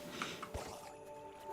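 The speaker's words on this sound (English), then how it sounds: "There we go, some lovely water." Water in the Minecraft video game gives soft squishy, dripping splashes, quiet and close over a faint steady background hum.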